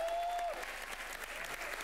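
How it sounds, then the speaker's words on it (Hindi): A studio audience at a televised Hindi comedy show bursts into loud, dense, continuous applause that fills the room, with a brief voice heard over its start. "अरे जोरदार तालियां हो जाए।"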